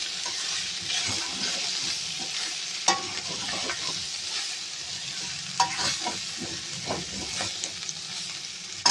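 Boneless chicken frying in oil for a Telangana-style chicken fry, mixed with chili powder, with a moderate sizzle under repeated scraping and clinking stirs of a spoon against the pan, close by, no voices.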